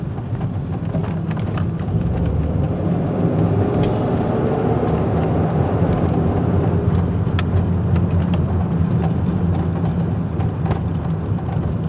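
A steady low hum and road rumble from a BMW driving with a worn rear wheel bearing, constant throughout with no voices.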